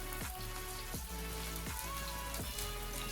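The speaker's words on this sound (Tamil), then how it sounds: "இது நல்லா ஃப்ரை ஆகட்டும்" Marinated raw plantain pieces fry in hot oil with a steady, dense sizzle. Faint knocks recur about every second.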